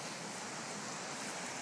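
A huge waterfall gushes in a steady, dense roar of rushing water, continuous and even throughout with no voices.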